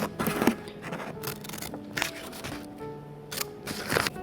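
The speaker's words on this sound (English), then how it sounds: "cut it out with some scissors" Crisp snipping and scraping of scissors working through paper, several short cuts close by with brief pauses between them.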